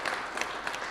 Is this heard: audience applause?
yes